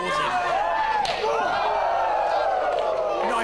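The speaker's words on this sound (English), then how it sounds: "Knife-edge chop in the corner on Scott Parker. The crowd go, woo!" A sharp knife-edge chop lands in the corner of an old-school independent wrestling match, followed by a loud, sustained crowd cheer and whooping that fills the hall, with commentary over it.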